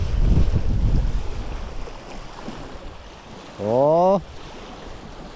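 Strong wind buffets the microphone on a boat while fishing for catfish on open water during a wind advisory, with heavy low rumbling gusts, a brief rising whine near the end, and a short spoken exclamation.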